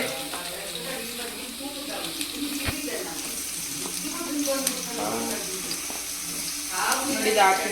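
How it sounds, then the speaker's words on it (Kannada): Ingredients including ginger sizzle in a hot pan for mutton kaima, a steady crackling fry under a person talking, with occasional clinks of a spoon against the pan. "ಇವಾಗ ಚೆನ್ನಾಗಿ ಫ್ರೈ ಮಾಡ್ಕೊಳ್ಳೋಣ ನೋಡಿ ಈ ಥರ"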